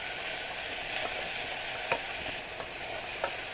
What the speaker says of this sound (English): about 2 tablespoons of cooking oil, and add in. And just stir it up.